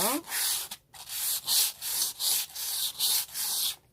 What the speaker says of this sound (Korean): 모서리 부분이 날카로우니 친구들 손 조심해서 사포질을 해주세요.